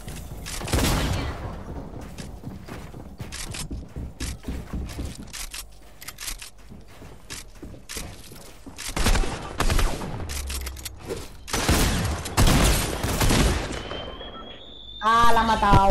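Shotgun blasts in a video game ring out in loud, irregular bursts across the scene, mixed with other gunfire and clatter, with chatter heard between shots.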